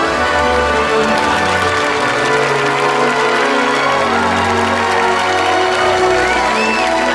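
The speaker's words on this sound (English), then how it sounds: "they kiss, live on stage in front of an audience who claps for them" A theatre audience claps and cheers for an on-stage kiss, a dense, steady wash of applause with scattered whoops lasting throughout, set against a musical backdrop.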